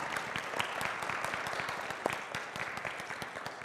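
Church congregation applauding indoors, a steady patter of many hands clapping at moderate level for several seconds with no talk over it.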